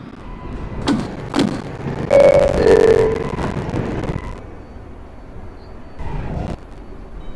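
A two-tone door chime sounds over rumbling subway train noise, followed by the thud and hiss of doors sliding shut, then quieter rumble.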